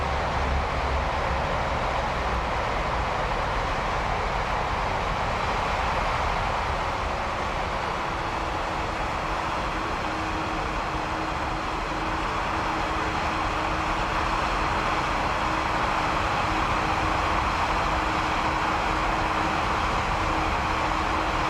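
Class 221 Voyager diesel train running in the Train Sim World 6 game on the Riviera Line, a steady loud rumbling cab drone with a faint engine hum throughout and no talking.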